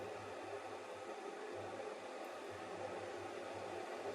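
A Fakir Kaave Plus Turkish coffee machine brews with a steady, close electric hum and a soft airy hiss, running continuously without talk.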